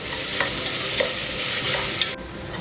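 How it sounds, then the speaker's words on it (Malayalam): Onions being sautéed in a pan for masala rice, a steady soft sizzle with occasional stirring scrapes, close and continuous without speech. "നല്ലപോലെ നമുക്കിതൊന്ന് വഴറ്റിയെടുക്കാം"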